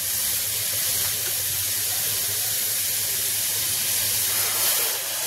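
Hot water hits frying moth beans (matki) in oil, sending up a steady, broad steaming hiss that holds evenly and fairly loud throughout with no talk.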